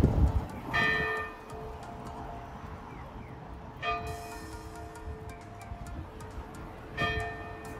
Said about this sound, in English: They ring the bell every hour, so if you're lucky, you may be able to hear the bells